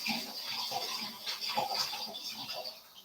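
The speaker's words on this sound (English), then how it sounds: "Give it a rinse." Food for a raw parfait rinsed under a running kitchen tap, a steady close splashing water stream lasting a few seconds.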